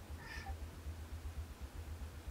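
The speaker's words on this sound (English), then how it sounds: "No, it's a cat. It was a cat." A house cat gives a single short, faint meow in the background, heard once over a low rhythmic hum.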